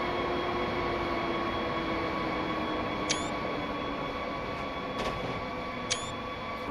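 A Railjet train running through Tyrol in Train Simulator Classic, a steady low rumble with constant tonal hum and a few brief high squeals or clicks near the end, no voices.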